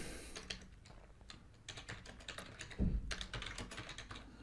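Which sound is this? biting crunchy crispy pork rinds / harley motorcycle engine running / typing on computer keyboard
typing on computer keyboard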